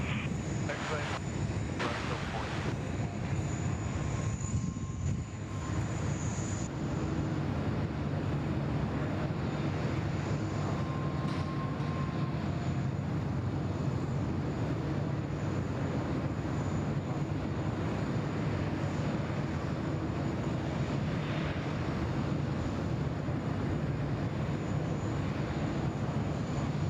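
An airplane takes off from runway 34 left at Sydney Airport, a distant, broad engine roar building and holding steadily beneath voices talking nearby.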